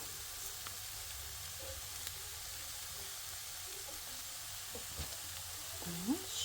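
Steady sizzling of onions frying in a pan with chanterelle mushrooms, a constant hiss with occasional soft pops and a faint clink near the end.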